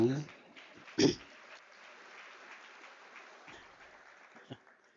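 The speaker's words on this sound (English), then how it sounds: "Can we applaud that?" At a university celebratory graduation, the audience gives faint, distant applause as a soft, steady patter, with a couple of louder bumps and a voice early on.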